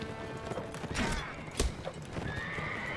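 A horse struck in combat in the medieval game Mount and Blade: Warband gives a loud, close neigh, with hoofbeats clattering around it.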